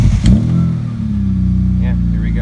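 A BMW E30 fitted with an S54 engine cranks briefly and fires up, then holds a loud, steady idle close by, with a voice heard briefly near the end.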